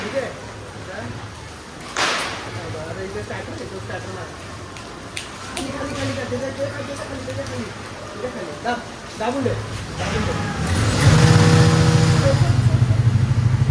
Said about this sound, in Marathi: आमची गाडी आई चालू करते